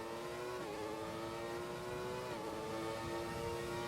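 Jordan 191 Formula 1 car engine in F1 2020, a high-pitched screaming V engine pulling steadily through the gears toward sixth with brief dips at each shift, sustained and fairly quiet.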